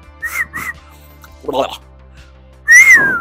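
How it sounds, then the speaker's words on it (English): A person whistles a few short rising notes, then a longer, louder sliding whistle near the end, with brief quiet gaps and a small rustle between. "There we go, we got a whistle in."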